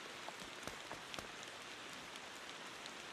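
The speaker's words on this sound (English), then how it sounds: "I do like the sound of the rain in this game." Video game rain falls in a soft, steady patter, sounding like drops drumming on a tent, with scattered sharper individual drops standing out over a quiet, continuous hiss.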